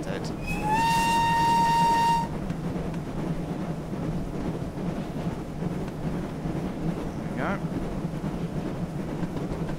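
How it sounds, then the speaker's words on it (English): Steam locomotive whistle from Train Simulator 2017 blows one loud, steady tooting blast for about two seconds, then cuts off, leaving rumbling engine and track noise with faint talk underneath. "It is a very nice whistle indeed."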